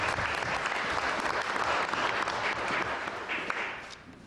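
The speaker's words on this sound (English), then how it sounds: "I think we need to give them a round of applause." A round of applause from the audience at a mayor's town meeting, honoring the Boys and Girls Club; full, steady clapping from many hands that gradually thins out toward the end.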